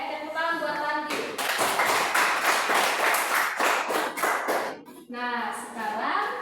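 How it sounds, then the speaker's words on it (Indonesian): Classmates clap for a student in a classroom, a dense burst of hand clapping lasting several seconds, with children's voices talking before and after. "tepuk tangan buat Tandi"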